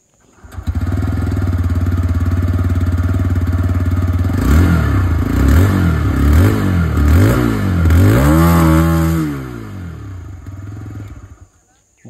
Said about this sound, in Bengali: এবার রেডারের আওয়াজটা শুনেন।